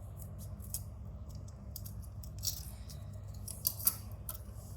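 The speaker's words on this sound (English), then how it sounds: "grab scissors, and where you have 4 pointed edges, you will have to cut them into a curve like this" Scissors cut paper into curves for an origami butterfly, giving a few crisp snips and clicks, close and quiet over a low hum.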